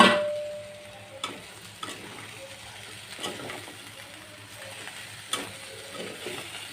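Chopped onions go into a pan of chicken being cooked into a Bengali kosha bhuna, giving a soft sizzle with a few scraping stirs and knocks of the spoon, fairly quiet and close.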